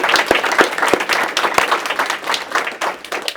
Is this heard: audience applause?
yes